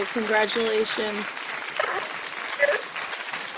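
An audience claps and cheers at an eighth-grade promotion ceremony, a scattered, moderately loud applause with a brief louder burst, heard beneath a nearby voice speaking.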